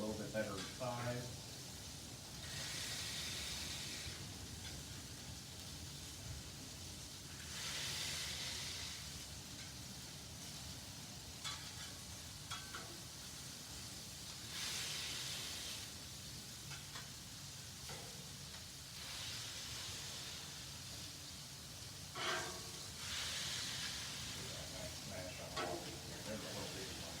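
Sausage patties smashed and searing on a Blackstone griddle give off a steady sizzle with scraping and stirring, under intermittent talk throughout.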